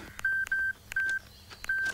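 A telephone is dialed, giving four distinct touch-tone beeps at an even pace, clear and fairly quiet with faint clicks between them.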